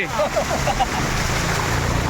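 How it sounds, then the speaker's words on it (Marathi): Heavy rain pouring over floodwater in a village in Konkan, India, with an Omni van stuck in the water; a steady broadband wash of rain and water continues throughout, with brief faint voices early on. "जोरात पाऊस जोरदार पाऊस रे"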